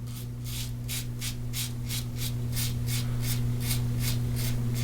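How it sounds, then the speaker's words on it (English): A fine slant-bar safety razor scrapes through two days of beard growth in quick, regular strokes, each a crisp rasp, close up against a steady low hum. "not a problem removing my 2 days beard growth"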